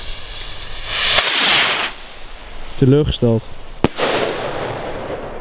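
A purple rain firework from Poland hisses as it launches, then bursts with one sharp bang and a trailing crackle and fizz. A voice speaks briefly just before the burst.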